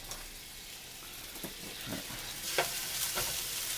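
Garlic sizzles in a pan, a quiet continuous hiss broken by several brief scraping and stirring sounds from a spatula, getting a bit brighter and louder toward the end, no talking.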